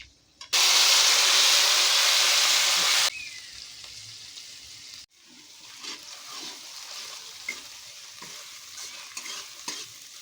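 Onion paste with fennel hits hot oil in a pan for a loud, steady sizzle lasting a few seconds, then drops to a softer frying crackle with intermittent scrapes and clicks of stirring.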